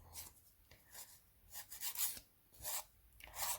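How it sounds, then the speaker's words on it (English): A nail file gently rasps gel off a fingernail during home gel removal, giving soft, close, rhythmic back-and-forth scraping strokes with no voices. "You only want to just be taking those last little bits of gel off your nail."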